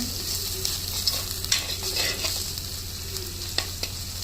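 Ginger garlic paste and onions sauté in a hot pan for seeraga samba chicken biryani, with a continuous close sizzle broken by scraping stirs and occasional sharp clinks of the spoon against the pan.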